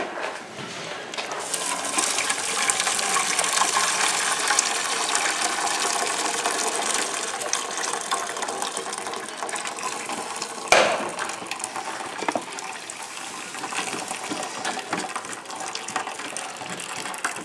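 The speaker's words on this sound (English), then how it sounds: "What I need to do now is to strain this stock so that we're left with a nice liquid with no bits of shell in." Shellfish bisque stock being strained through a fine mesh sieve, a steady loud gush and splash of liquid running for most of the stretch, with a brief clink of the sieve or pan near the end and no talking.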